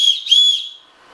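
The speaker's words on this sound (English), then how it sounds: "there are also some features in the Gerber knives that Morakniv does not have, such as the whistle. It's attached with the knife and it's very loud." Loud, shrill whistle built into a Gerber Bear Grylls Ultimate Pro fixed-blade survival knife, two sharp blasts close together, the second longer, then fading out, with no talking.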